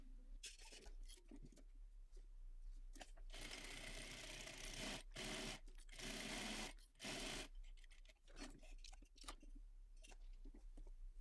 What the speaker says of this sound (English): So we're going to go to our sewing machine and start stitching on the outer.